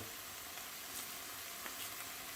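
Ground beef and a clove of garlic sizzle steadily in a pan over low heat, a continuous close crackle with a couple of faint stirring scrapes.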